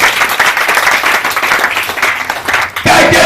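A church congregation bursts into loud, sustained applause and cheering praising the Lord, a dense wash of clapping that swells sharply near the end, with voices mixed in.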